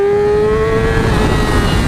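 A 2019 Yamaha R6 motorcycle pulls hard in first gear at full throttle on a test track, its engine note a loud, continuous high-pitched wail that climbs steadily as it accelerates.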